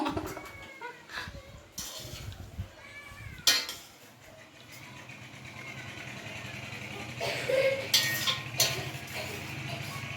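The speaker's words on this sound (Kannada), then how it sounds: "ಈಗ ಅಮ್ಮ ಪ್ಲೇಟಾಗ ಹಾಕ್ತಾ ಇದ್ದಾರೆ ನೂಡಲ್ಸ್ನ" Maggi vegetable noodles are served from a pan onto a plate on a home stove, with sharp metal clinks and scrapes of a utensil in bursts, mixed with faint background noise and a cat-like cry.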